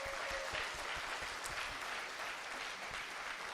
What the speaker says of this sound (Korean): 여러분께 박수를 좀 부탁드리겠습니다